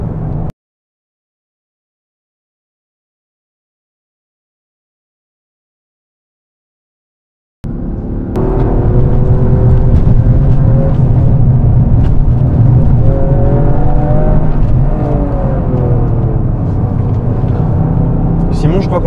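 A Toyota GR Yaris drives on a race circuit. After a brief sound and a long silence, the engine comes in with a steady, loud in-car drone and rising, falling tones, while people talk over it.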